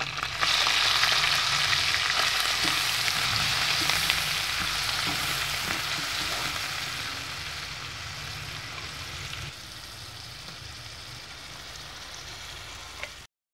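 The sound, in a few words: ground masala frying in ghee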